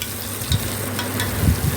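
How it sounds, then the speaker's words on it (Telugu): Spices for tomato rasam sizzle and fry steadily in a pan at close range, with a few stirring scrapes breaking through the continuous hiss. "ఇలా వేయించుకోవాలి. చూడండి వేగుతున్నాయి."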